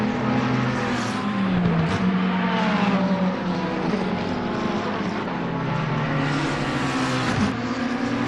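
Race cars circle Snetterton circuit in a racing video game, engines whining and shifting pitch continuously through gear changes, loud and steady over eight seconds without speech.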